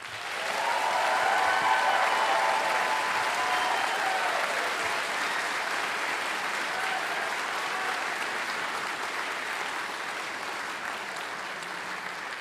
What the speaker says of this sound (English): will everyone please join me in a round of applause for the graduating class of 2025